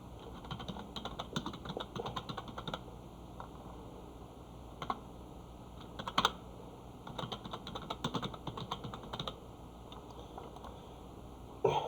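Rapid clusters of key clicks from a computer keyboard as an employee's name is entered, steady close-up tapping in bursts with short pauses over a faint background hum.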